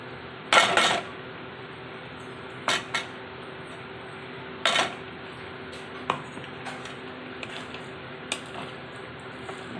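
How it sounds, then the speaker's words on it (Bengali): Spice mix going into a pan of sweet, tangy mango chutney cooked with jaggery, with a few sharp utensil clinks against the pan over a steady cooking hiss, then softer scraping taps as it is stirred. "এবার যে মশলাটা করেছি, মশলাটা এখন আমি এতে দিয়ে দেবো।"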